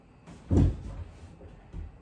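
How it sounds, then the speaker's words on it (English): A martial arts kick strikes the back of a chair during a Tang Soo Do home class, landing as a single solid thump with a faint lighter knock shortly after. "I'm going to hit the back of the chair."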